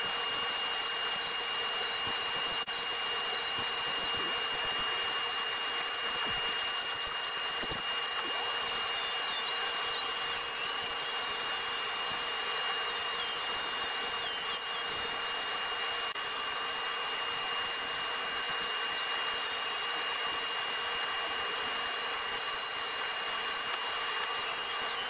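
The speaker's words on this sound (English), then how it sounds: "this is a Cutsaw brand rotary burr, and it's an extreme, very coarse one, and it's just a little eighth-inch shaft" A very coarse Cutsaw rotary burr on an eighth-inch shaft grinds into wood while carving a craft tree, a continuous high power-tool whine with rough scraping, steady and close throughout with no talk.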